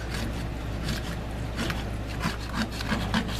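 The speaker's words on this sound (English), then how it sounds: "all I'm gonna stand here and do is just keep scraping. Because it's still stuck" Scraping stuck browned bits from a pan while making homemade au jus: continuous close rasping strokes, rough and rhythmic, repeating steadily over a low background rumble, without speech.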